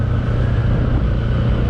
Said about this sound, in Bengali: আপনারা আমার বাইকের সাউন্ডটা শুনলেন